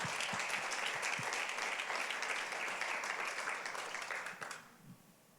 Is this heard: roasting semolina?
no